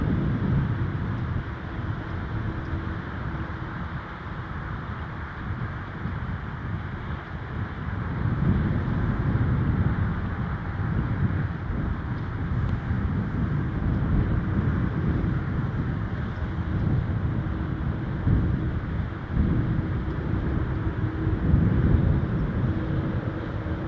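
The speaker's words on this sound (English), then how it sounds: "That was Envoy 3606 for American Eagle from Chicago O'Hare on an Embraer 170." An American Eagle Embraer 170 regional jet lands at Toronto Pearson in gusty wind, a steady broad roar of jet engine and wind rumble that swells midway and holds, with no voices.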